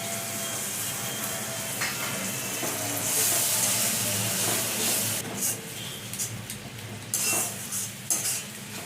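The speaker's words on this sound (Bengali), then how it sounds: "সামান্য একটু জল দিয়ে দিচ্ছি।" Tilapia curry masala frying in a pan hisses and sizzles as water is added, with a louder burst of steam and intermittent scraping of a spoon against the pan, close and without speech.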